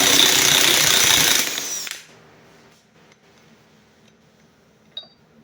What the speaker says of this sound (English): I'm going to go ahead and remove my pinion yoke before I pull the pinion support loose.